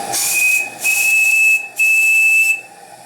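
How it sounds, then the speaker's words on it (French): A steam whistle on a Microcosm RC steam turbine boiler blows three loud, steady shrill blasts close up, each lasting most of a second with brief hissing gaps between, with no talk. "Alors le sifflet lui va très bien"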